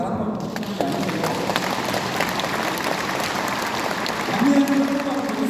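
An audience at a town-hall meeting with a provincial governor breaks into steady, sustained clapping that fills the hall for several seconds, with a voice speaking faintly underneath.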